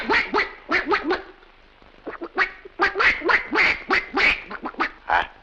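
A man imitates a duck, giving a run of about a dozen nasal quacks in uneven bursts, close and fairly loud, with a short pause midway.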